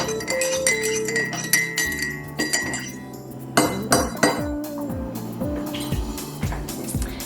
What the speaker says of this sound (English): Because I had a little sugar cube down in there, I'm going to stir it.